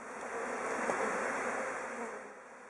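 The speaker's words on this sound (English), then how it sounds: "now he's preparing to shake off the last bees from the main body of the hive." Bees being shaken off the main body of a hive during a relocation give off a dense, continuous swarm buzz, loud and close throughout.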